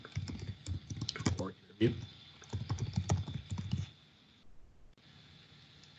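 Computer keyboard typing in quick, busy bursts, close and fairly loud, with a short pause partway; a voice speaks briefly over the keys before the typing stops and leaves quiet room tone.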